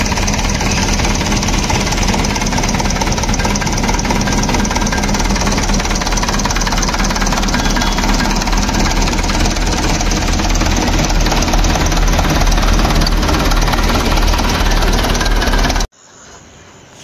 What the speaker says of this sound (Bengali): ইঞ্জিনের সাউন্ডটা একটু আমি আপনাদেরকে শোনাই, একটু শোনেন।